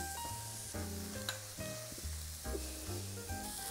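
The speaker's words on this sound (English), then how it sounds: "once these burgers start cooking, it's important that we don't move them" Burger patties sizzle in a skillet as a soft, constant hiss beneath louder music with steady bass notes, and no voices come through.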